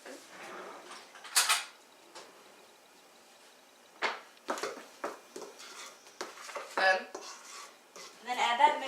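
A spoon scrapes and knocks against a bowl as butter, eggs and vanilla are stirred into cookie dough, irregular clattering strokes in bursts with quiet gaps, close up.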